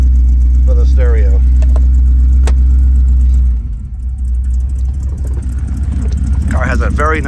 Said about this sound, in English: Car has a very nice rumble to it, everything you'd expect.